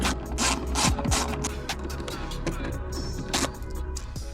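A ratchet clicks in quick bursts while removing the nuts from the e-brake plate of a five-cylinder Miata, with metallic handling sounds in between, close up.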